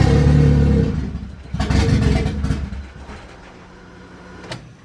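A Honda B20 VTEC engine runs roughly and struggles to idle, loud uneven surges and clattering that rise and fall, then sag into a quieter, unsteady rumble, heard close up with no talking.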